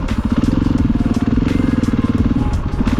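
A KTM 500 EXC single-cylinder dirt bike rides in third gear, its engine thumping in a fast, steady pulsing rhythm, loud and close, with some clatter over the top.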